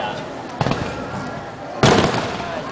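Two loud firework bursts at a fireworks display in Toyohashi, Japan, one early and a bigger one later, each with a crackling tail, while people talk excitedly nearby.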